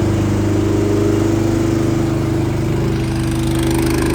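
A farm tractor engine runs steadily nearby, a loud, even mechanical drone with a constant low hum and no pauses.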